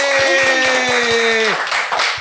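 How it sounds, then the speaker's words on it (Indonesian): A studio audience on an Indonesian Idol talk show claps in a steady rhythmic beat, close and loud, under a voice holding a long sung or shouted note that cuts off partway. "Tepuk tangan lagi."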